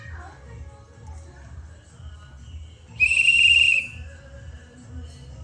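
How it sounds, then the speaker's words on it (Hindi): A child gives one loud, shrill blast on a whistle, held for under a second, over background noise, with quiet voices before and after. "सीटी बजा के दिखाओ एक बार।"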